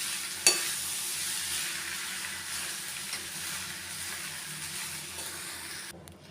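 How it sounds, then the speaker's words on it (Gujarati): Stirring sago khichdi in a hot pan after the sago pearls go in, a sharp tap of the utensil at the start, then a steady soft sizzle and scraping with no talking. "હવે સાબુદાણા નાખીને બધું આપણે મિક્સ કરી લઈશું."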